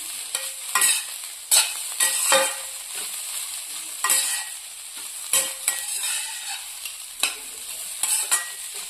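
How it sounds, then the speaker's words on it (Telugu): Carrot sweet frying in ghee hisses in a bright, steady sizzle. A spoon stirs through it with repeated scraping knocks against the pan, at an irregular rhythm. The sound is close and fairly loud, with no talking. "ఇప్పుడు ఇంకొంచెం నెయ్యి యాడ్ చేసుకుంటాము. ఇది కూడా ఒకసారి కలుపుకొని"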